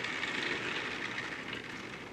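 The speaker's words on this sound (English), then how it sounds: "let's run this train on a club layout" An OO scale model train, a British Railways consist with fish vans, runs on a club layout, giving a steady continuous rolling rumble with faint rail clatter that holds close and even throughout, with no talk.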